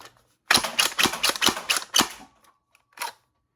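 A rapid burst of about eight sharp, close cracks from a prototype Foxbat MIG pistol firing in slam-fire mode, then a brief pause and one final shot.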